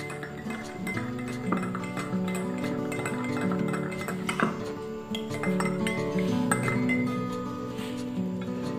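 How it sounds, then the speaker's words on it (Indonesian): A spoon stirs a warm lemon drink in a glass, clinking steadily against the sides in a continuous close, fairly loud run of small rings and taps. "aduk"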